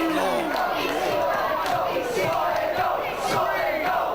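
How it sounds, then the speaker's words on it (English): A wrestling arena crowd chants in loud, rhythmic unison, the repeated chant pulsing steadily and filling the space. "The crowd breaking into a chant of solid gold, solid gold."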